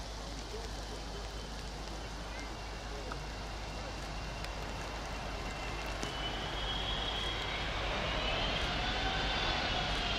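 Aircraft engines roar as a steady broadband drone for about ten seconds, growing slightly louder and brighter toward the end, with faint voices underneath.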